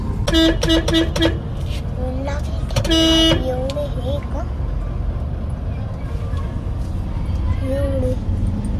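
A four-wheeler car driving along a road, with a steady low road rumble throughout and a quick burst of repeated horn toots near the start, then a longer honk.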